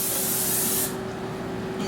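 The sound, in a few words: nonstick cooking spray sprayed onto a cooking pan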